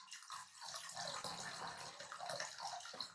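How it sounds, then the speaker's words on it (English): Water pours steadily into a bowl during a summer solstice ceremony, a continuous close splashing and trickling stream that runs alone for about three seconds. "We pour into the bowl of water the waters of the chalice well."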